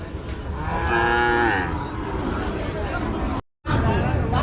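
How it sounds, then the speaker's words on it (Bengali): A cow moos loudly with a long, drawn-out low call at a calf and cattle market, set against a busy crowd murmur; a brief cut of silence falls near the end. "মাসুদের আজকে পাঁচ পিস গরু আছে আমরা দেখতে পাচ্ছি"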